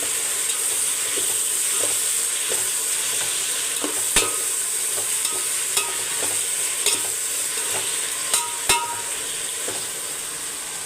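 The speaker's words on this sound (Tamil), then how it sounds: "அதுக்கப்புறம் புதுனா இப்போ இதை வதக்கி கொடுத்துக்கோங்க" Mint leaves sauté in a pan with ginger and garlic, a steady close sizzle broken by sharp clacks of a spoon scraping and stirring, several distinct knocks over continuous frying hiss, no voices.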